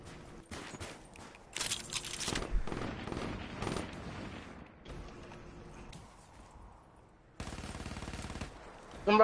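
Bursts of automatic gunfire in Call of Duty Black Ops 3 multiplayer, loud rapid volleys broken by quieter gaps, with a sharp fresh burst near the end.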